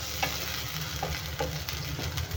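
Chopped tomato cooks in hot oil in a pan for a crab curry, a close continuous sizzle with a low steady hum underneath and a few light scrapes of stirring.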